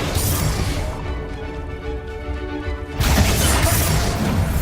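Hogwarts Legacy spellcasting, the Confringo blasting spell: a dense, loud crashing blast, a brief humming lull, then a second sustained roar of explosive noise.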